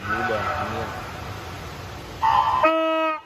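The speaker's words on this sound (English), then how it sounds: "we get a big ol' honk from the horn right after the start of the 50 back" Starting horn at a swimming meet sounds for a 50 backstroke race, a loud sustained electronic honk lasting under a second, cutting in after crowd noise and talk and ending abruptly.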